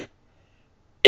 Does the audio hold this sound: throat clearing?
yes